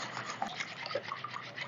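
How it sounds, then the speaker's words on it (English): A whisk beats crepe batter with melted butter in a bowl, a fast continuous close scraping and sloshing with no talk. "just going to dissolve in the butter as we continue mixing"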